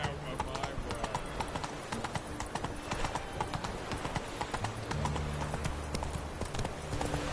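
Geralt's horse Roach trotting in The Witcher 3, a steady rhythmic clip-clop of hooves running through the whole stretch over game ambience, with a voice briefly speaking.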